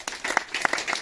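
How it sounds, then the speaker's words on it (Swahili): A short burst of audience applause, with several quick claps close together. "wapigieni makofi tu"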